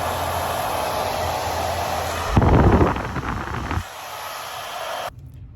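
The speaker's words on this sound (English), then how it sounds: "And now we're gonna test the blow dryer." A blow dryer from an estate sale haul runs with a steady hiss and whir, briefly louder midway, then cuts off near the end.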